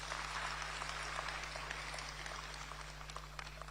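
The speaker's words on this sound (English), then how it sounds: "A round of applause for our MPs." Applause for members of parliament from a crowd at a Ghanaian gathering, a dense, distant patter of many clapping hands that slowly fades over a few seconds.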